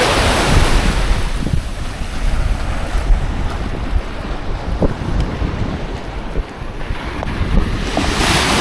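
Sea waves wash and break continuously on a black sand beach in Greece, loud and close with heavy wind rumble buffeting the microphone throughout.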